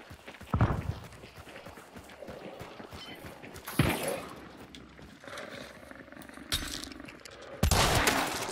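Rifle shots loaded with fire ammo ring out in the video game Hunt: Showdown, four sharp loud blasts spaced a few seconds apart over a low ambient background.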